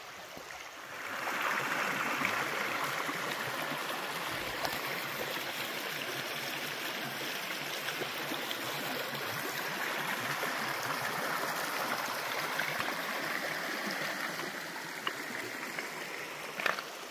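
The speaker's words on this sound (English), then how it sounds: "So here's the creek that borders the property, that's right on the edge of the property. Real pretty creek." A creek runs along the edge of a wooded rural property in Mouth of Wilson, Virginia, giving a steady, close, broadband rush and gurgle of flowing water that holds even for the whole stretch, with no voices.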